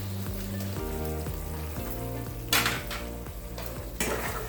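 Soyabean kurma being stirred and mixed in a pan, a steady sizzle and frying hiss under repeated scraping and clinking of a spoon against the pan, with a few louder bursts of scraping, no talking.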